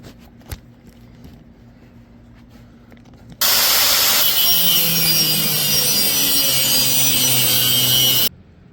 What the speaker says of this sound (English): So I'm gonna mark this and cut it off.